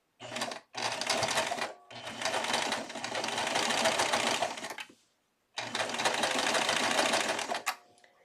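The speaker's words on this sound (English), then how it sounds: "I like to sew right along the edge of my fold rather than in the middle" A sewing machine stitches along the folded edge of a cloth diaper in steady, close, loud runs, with short pauses between bursts and a longer stop partway through; no talking.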